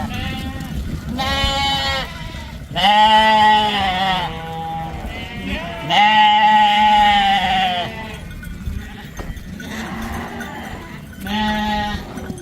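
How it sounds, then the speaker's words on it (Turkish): Lambs offered for sale bleat repeatedly in loud, overlapping bursts, several calls spread across the stretch with short pauses between them, close by on a livestock market or farm. "satılık kuzularımız meydana çıktı"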